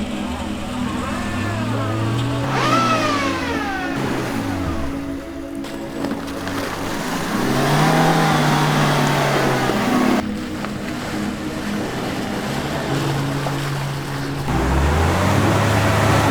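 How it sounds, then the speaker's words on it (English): Suzuki Jimny driving at an off-road park, its engine rising and falling through repeated revving swells over a rough, continuous wind-and-terrain rush recorded up close. "I went to an off-road park to test out the Jimny for the first time."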